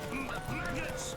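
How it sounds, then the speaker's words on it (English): Hooves clip-clopping at speed during a horse race in The Witcher 3, a quick rhythmic gallop mixed with a brief whinny and game sounds. "So the horse racing is kind of awkward in this game."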